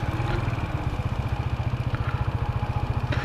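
A motorcycle engine idles close by with a fast, even, chugging pulse and light mechanical clatter.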